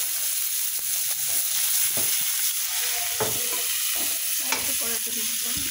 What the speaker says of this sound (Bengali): তো এই পর্যায়ে আমাদের মাছ ভাজা প্রায় শেষ